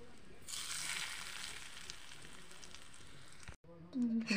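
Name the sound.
mixing oil into spices for kordoi (star fruit) pickle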